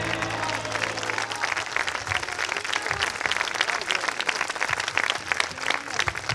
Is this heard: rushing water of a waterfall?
no